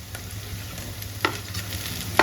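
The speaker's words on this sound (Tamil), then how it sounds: "சேர்த்து நல்லா வதக்கலாங்க." Garlic and tomato sauté quietly in a pan with a soft steady sizzle, broken by a couple of sharp scraping stirs from a utensil.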